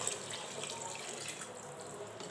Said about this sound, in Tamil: இப்போ வந்து அந்த தண்ணி அதில் ஊற்றிக்கலாம்